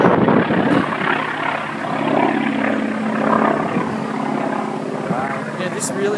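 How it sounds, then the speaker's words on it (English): A propeller aircraft roars past overhead at an airshow in the Hunter Valley, a loud, steady engine drone with wind noise and brief voices of spectators. "What is happening to me? Surprise plane."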